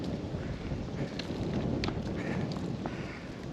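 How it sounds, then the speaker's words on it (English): Wind gusts across an open stretch of walking path on a grey, damp February day, buffeting the microphone in a steady loud rumble with brief sharper flurries and no speech. "we've come out of the way of the trees and we're getting the wind now"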